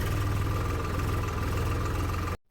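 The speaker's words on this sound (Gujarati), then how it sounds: "આ જીસીબી તો ઊંધું હાલ્યું જાય છે." A JCB backhoe's diesel engine runs at a steady idle-like throb, with a close, continuous low rumble and regular pulsing that cuts off abruptly near the end.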